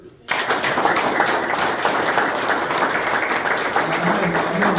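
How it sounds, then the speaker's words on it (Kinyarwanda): A church congregation breaks into loud, sustained applause, dense clapping from many hands filling the room after a brief quiet start and continuing steadily to the end. "Noneho reka tuhereze Imana amashyi kubw'umurimo igenda kwa hagati muri twe."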